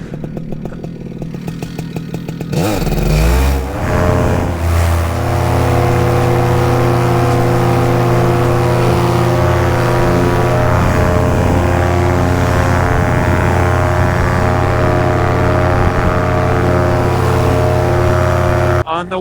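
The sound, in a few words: small airplane engine during takeoff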